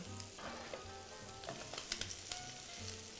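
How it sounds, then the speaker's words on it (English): Crab cakes fry in a pan on their second side, giving a quiet, continuous crackling sizzle with scattered small pops and spits. "Now they're just going to cook on their second side for another 3 to 4 minutes and until golden brown"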